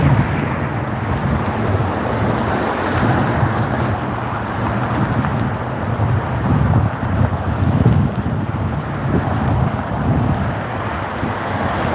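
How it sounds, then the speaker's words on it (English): Strong wind gusting outdoors on a cold, clear day in Santa Rosa, California, buffeting the microphone with loud rumbling roar and faint traffic noise beneath, no talking. "the wind is kicking up today too"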